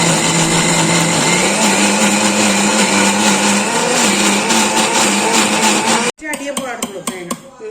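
A mixer grinder coarsely crushes grated coconut with spices for a jackfruit puzhukku dish, its loud steady motor whirring for about six seconds before cutting off abruptly, followed by clattering and rattling as the jar settles.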